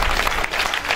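A church congregation bursts into applause, a dense patter of many hands clapping close by for a brief moment.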